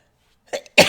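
A person coughs twice in quick succession, close and loud, a short rough first cough followed by a stronger, longer second one after a brief silence.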